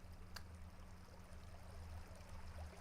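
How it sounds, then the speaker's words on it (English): Running water in Farming Simulator 25, a steady low, continuous trickling stream with a constant rushing texture, heard alone at moderate loudness throughout. "I like the water running water sound too"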